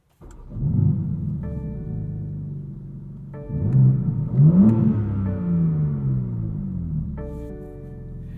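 A 2023 BMW M4 CSL's engine cranks and catches, then settles into a steady idle before two sharp revs rise and fall back, loud and close, with no one speaking.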